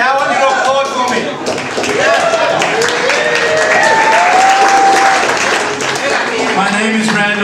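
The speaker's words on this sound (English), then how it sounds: "Now I want you to applaud for me." Audience applause at the ODDie Awards poetry show, a dense sustained clapping from the crowd with voices and whoops mixed in throughout.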